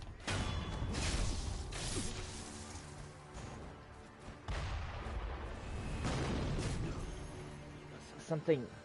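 Explosions and distant cannon fire in the video game Sekiro: Shadows Die Twice, several heavy booming blasts with whooshing rumble spread over the stretch while someone talks over the game.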